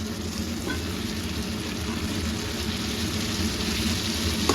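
Tomatoes and vegetables frying in a pan for a vegetarian biryani, a steady close sizzle with a soft bubbling texture, continuous and even throughout.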